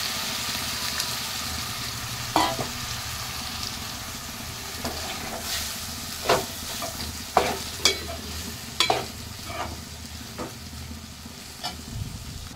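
Chopped tomatoes fry with onions and ginger-garlic paste in a pan, giving a low continuous sizzle under sharp, irregular spoon scrapes and clacks against the pan, close and moderately loud.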